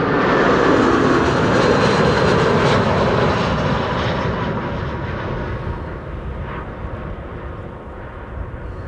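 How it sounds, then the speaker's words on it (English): An Airbus A340-600 arriving at Amsterdam Schiphol roars loudly and close, its four-engine jet noise strong at first and then slowly fading as it passes. "There's the A340-600"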